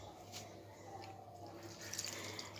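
Water trickles and drips as potted plants are watered at home, a faint steady pour with small splashes, quiet and close.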